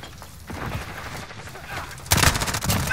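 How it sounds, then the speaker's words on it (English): Gunfire in Call of Duty Modern Warfare 2020 while holding a capture point, with rapid automatic bursts building to a loud, close volley near the end, game voice callouts mixed in. "I'm taking fire!"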